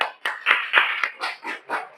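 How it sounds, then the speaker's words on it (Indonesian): Students in a school computer networking class clap together in a steady rhythmic pattern, seven crisp evenly spaced bursts close by with no talking. "kita beri tepuk tangan lagi ya"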